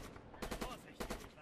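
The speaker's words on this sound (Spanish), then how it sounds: "por acá vamos a ver cómo disparo a un enemigo" Gunfire in the World War II shooter Red Orchestra 2 aimed at an enemy: a pair of loud, sharp shots with echoing tails, about half a second apart.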